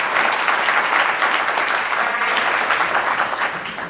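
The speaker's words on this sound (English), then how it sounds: "give her a round of applause" A lecture-hall audience gives a steady round of applause for the Chancellor, dense and sustained clapping from many people throughout, with no talking over it.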